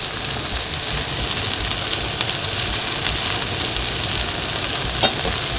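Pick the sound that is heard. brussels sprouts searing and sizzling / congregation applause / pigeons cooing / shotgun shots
brussels sprouts searing and sizzling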